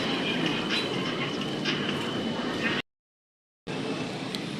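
An electric train runs past in Thailand, a steady loud rumbling roar that cuts out to total silence for under a second before the roar resumes.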